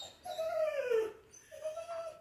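A dog whimpers and whines at another dog seen outside a window, two drawn-out high, wavering cries with a short pause between them, close and fairly clear in a quiet indoor room.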